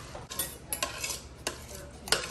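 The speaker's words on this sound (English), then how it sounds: "now we're just going to scrape our potatoes into our bowl." Mashed potatoes being scraped into a bowl with a utensil for Thanksgiving side dishes, a few close, sharp scraping strokes against the bowl spaced irregularly over a soft kitchen background.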